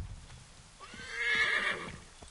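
A horse in the video game Assassin's Creed 3 gives a single clear, drawn-out whinny, with faint hoof clopping in the background and no talking.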